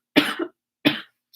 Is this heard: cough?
yes